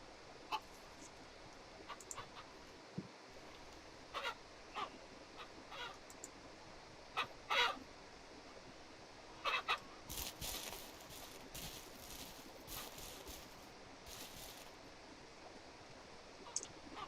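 Hens and roosters in the farming game Ranch Simulator give scattered clucks and honk-like calls, short bursts spaced out over several seconds against a quiet background.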